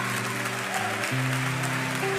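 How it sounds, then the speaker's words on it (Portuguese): A church congregation claps in sustained, dense applause throughout the moment, with a voice or music faintly audible beneath the clapping. "Dê o melhor aplauso que você puder por essas vidas"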